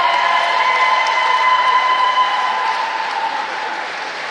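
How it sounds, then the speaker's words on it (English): Steady applause from a crowd at a boys' under-17 basketball grand final, a dense wash of clapping that slowly fades toward the end. "It was just a bit of a round of applause"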